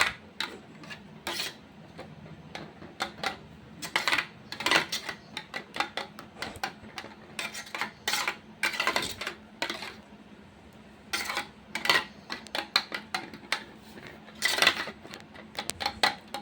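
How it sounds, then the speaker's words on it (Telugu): Eggs with chopped onions, green chillies and coriander are whisked briskly in a bowl, giving a fast run of clinking, tapping utensil strokes against the bowl's side, close and fairly loud, with brief pauses between bursts and no talking. "ఎగ్స్ వేసుకున్న తర్వాత ఎగ్స్, ఆనియన్స్, పచ్చిమిర్చి, కొత్తిమీర అన్నీ బాగా మిక్స్ అయ్యేటట్టుగా"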